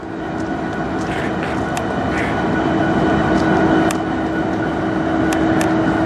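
CN freight train with two locomotives labouring up a grade inside a tunnel, a steady loud droning rumble with scattered clanks throughout, heard from nearby.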